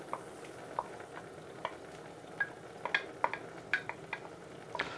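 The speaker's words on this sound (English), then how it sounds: "We're gonna add our sweet corn." Tinned sweet corn goes into a pot of chicken stock at a rolling boil, giving scattered light clicks and taps over a soft, steady bubbling hiss, with no voices.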